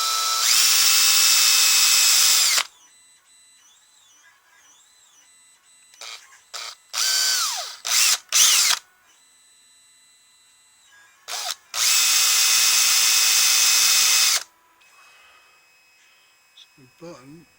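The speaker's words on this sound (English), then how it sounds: "if I choke up on these little tiny drill bits," A power drill with a tiny bit bores holes during an electronics button build, sounding in loud, high whining bursts: a long run, several short stuttering ones, then another long run, with quiet gaps between.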